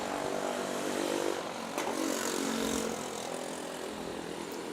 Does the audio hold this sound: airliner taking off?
yes